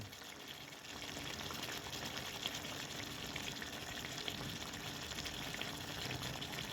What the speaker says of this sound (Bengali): এখন মাংসটা কষছি মাংসটা ভালো করে কষবো